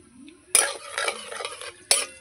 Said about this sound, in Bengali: 5 ফোড়নটা একটু নেড়ে চেড়ে নেব।